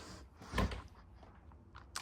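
A storage drawer under the bed of a 2026 East To West Ahara 395FB RV slides with one quick, fairly faint thump and rattle, followed by soft interior handling noises.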